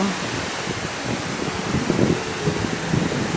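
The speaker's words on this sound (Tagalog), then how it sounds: "maingay ang alon. Kasi mahangin talaga siya." Steady broadband wind roar with a low rumbling wash of surf underneath at a beach, continuous and fairly loud throughout.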